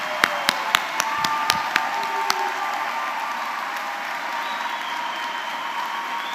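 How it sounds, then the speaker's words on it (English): Graduates at a 2022 graduation ceremony clap steadily in a dense, sustained round of applause from a large crowd, with a few sharp, close claps standing out at the start. "stand up and give yourselves a round of applause"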